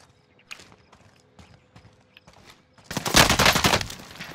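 Gunfire in the video game Call of Duty: Modern Warfare, a few sparse clicks and shots at first, then a loud sustained burst of rapid automatic fire near the end.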